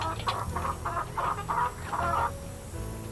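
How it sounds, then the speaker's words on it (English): A hen clucks in a ranch farmyard scene of the Nancy Drew: The Secret of Shadow Ranch game, a run of five or six close, rhythmic clucks over a low steady background hum. "So, that hen in particular, don't mess with her."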